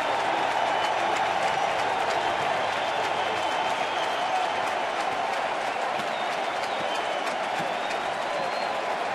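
Big crowd at Miller Park during an NLDS Game 5 playoff baseball game, a steady wash of cheering and applause that holds loud and continuous throughout.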